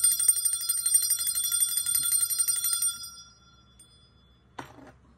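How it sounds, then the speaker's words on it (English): A bright metal bell rings with a shimmering, sustained tone that fades away over about three seconds, followed by a brief soft knock. "So I'm going to just tap this bell."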